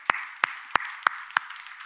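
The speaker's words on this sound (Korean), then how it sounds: "우리 예수님께 영광의 박수 돌립시다." Sparse claps in a church service during a Korean sermon, five sharp, evenly spaced hand claps at a slow rhythm, fairly close and otherwise quiet in between.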